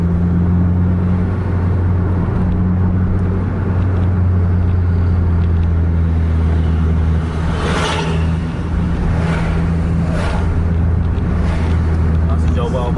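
A bus labeled AW04 pushes hard at full throttle on a congested highway near the Aceh–North Sumatra border, its engine droning loud and steady with low tones and a climbing whine, while someone talks over it.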